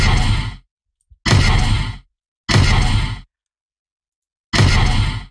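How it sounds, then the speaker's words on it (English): Unprocessed big impact sound effect made for a fighting-game limit break, struck four times as separate loud, dry broadband hits, each lasting under a second with gaps of silence between. "it's one big impact sound."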